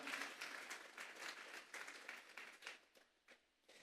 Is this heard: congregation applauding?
yes